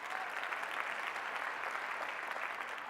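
Sustained audience applause at a university chancellor's lecture, a dense, even wash of many hands clapping, moderately distant and steady throughout with no talk.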